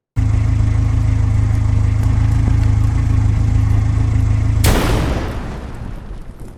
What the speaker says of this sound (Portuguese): e o sistema de explosão em si